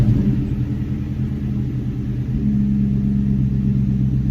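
A New Edge Mustang GT idles steadily at about 1,000 RPM in neutral or park, a close, even engine rumble that deepens slightly partway through and holds without hanging.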